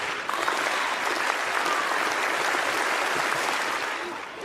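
Stadium crowd applauding a high jump clearance at Ratina Stadium during a European athletics meet, a dense, steady roar of clapping that holds for several seconds before easing slightly at the end.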